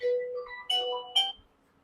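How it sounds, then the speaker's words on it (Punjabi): A phone ringtone plays three short melodic tones, the last two bright and chiming, close and clear against a quiet room before it cuts off. "ਲੈ ਆ ਗਿਆ ਫੋਨ ਇਹਦਾ"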